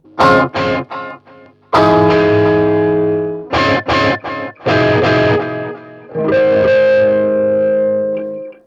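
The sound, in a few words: electric guitar through pedalboard with stereo delay and reverb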